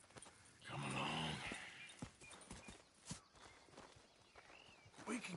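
Horse hooves clip-clop at a walking pace in a video game, fairly faint and distant, with a brief swell of other game sound early on.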